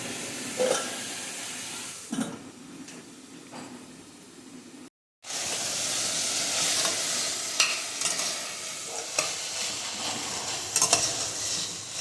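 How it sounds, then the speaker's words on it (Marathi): Vegetables including brinjal sizzle in a pan for masala rice while a spoon stirs and scrapes them, with clattering strokes over continuous frying hiss and a brief pause midway. "वांग छान भाज्या सगळ्या परतल्यात आता घालूया हा तांदूळ त्याच्यामध्ये"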